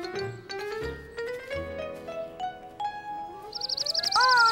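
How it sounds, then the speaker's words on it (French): A small bird chirps in the Caillou cartoon, its bright repeated tweets arriving near the end over soft, sustained cartoon music. "Le petit oiseau, il s'est envolé."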